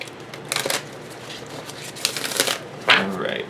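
Goddess oracle cards are shuffled by hand in several quick riffling bursts with soft flicks and slaps, close and fairly quiet, and a faint voice murmurs in the background.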